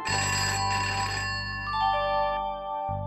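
A telephone ringtone plays alone indoors, a bright electronic melody with sustained tones that step down in pitch before cutting off and restarting.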